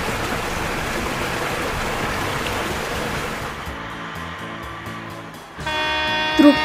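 In a children's toy-vehicle game, a cement mixer truck pours mortar into a hole, a steady rushing whoosh like pouring slurry that gives way to bright electronic music tones.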